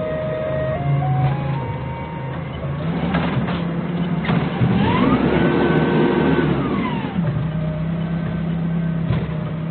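A forklift unloads long bending pipe at a work site. Its mid-pitched engine drones steadily and swells as it revs, with thin mechanical whines rising and falling over the rumble.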